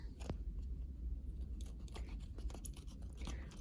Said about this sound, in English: So I'm going to just trim these down a little bit so that they're nice and neat and no sticky bits.